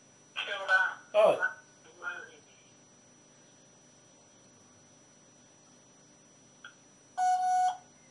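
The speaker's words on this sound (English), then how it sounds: "your phone went off." A phone goes off with bright electronic tone bursts, a cluster at the start and another a few seconds later, separated by near silence.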